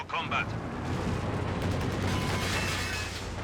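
A DShK heavy machine gun firing armor-piercing rounds in Company of Heroes 2 rattles as a dense, continuous burst of battle noise with booming impacts, loud and sustained.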